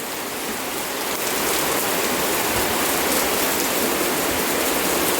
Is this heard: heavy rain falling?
yes